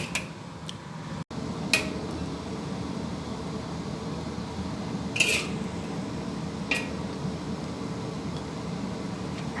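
Stewed pork ribs with lotus root being moved onto a plate: a few sparse, faint clinks of a utensil against dishware over a low, steady kitchen hum.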